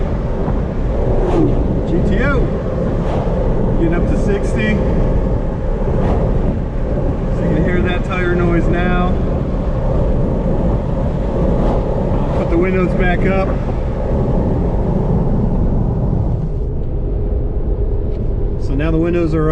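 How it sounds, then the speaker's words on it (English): Steady loud road roar of tires on a 2018 Jeep JL Wrangler cruising at 55 mph, a constant low drone filling the cabin while someone talks over it. "There's still some tire noise, but it's not that big of a deal."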